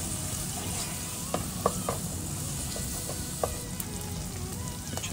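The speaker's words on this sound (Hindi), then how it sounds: "चने डाल के भून लेंगे इसके साथ।" Chickpeas are stirred and fried with garam masala in a pan for Lahori cholay, making a steady sizzle broken by several sharp scraping and clinking stirs of the spoon, with no talking.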